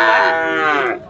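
A young heifer calf of an improved breed, about eleven months old, gives one loud, close moo lasting about a second at a livestock market, with no talking over it.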